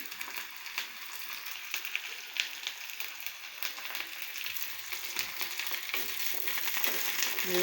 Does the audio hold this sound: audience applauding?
no